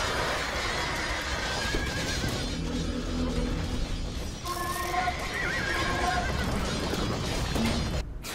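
Horses in Age of Empires 2 DE neigh and whinny loudly again and again over a busy bed of clip-clopping hooves, with brief crashing game effects in between.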